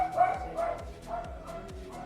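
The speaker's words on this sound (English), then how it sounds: "Crazy freaking dog" A dog barks indoors in a quick, steady run of about five sharp barks, close and fairly loud, alone without talk.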